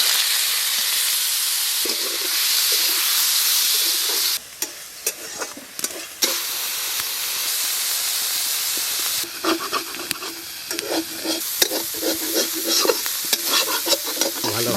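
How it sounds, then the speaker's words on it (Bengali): Fish sizzles and hisses loudly in hot oil in a pan during traditional Santali village cooking, a dense continuous frying roar with intermittent crackles and scraping, without any voices. "মাছ ভেজে নেবো।"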